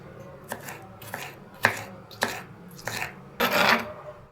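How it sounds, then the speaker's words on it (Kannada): Tomatoes sliced with a knife for Gulbarga-style aloo bath, about seven separate close, crisp cutting strokes in an irregular rhythm, each a short rasping swipe with a soft board tap, alone over a low room hum. "ನೆಕ್ಸ್ಟ್ ಟೊಮಾಟಿ ಕಟ್ ಮಾಡ್ಕೊರಿ, ಇವನು ಸ್ಲೈಸ್ ಆಗಿ ಕಟ್ ಮಾಡ್ಕೊರಿ."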